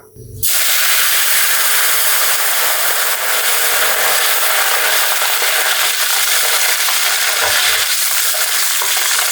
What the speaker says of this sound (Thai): ต่อไปเราก็จะนำใบกระเพรา นะครับ มาทอดให้กรอบ